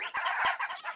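A Minecraft parrot imitates a wolf bark in short, squeaky, high-pitched yips, several quick barks in a row, close and clear with no talking.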